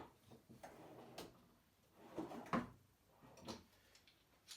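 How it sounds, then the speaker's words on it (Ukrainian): A large wooden workbench drawer slides open or shut, with a few soft knocks and a short scraping rub in the middle, faint and close in a quiet workshop with no voices. "Маємо дві великі шухляди."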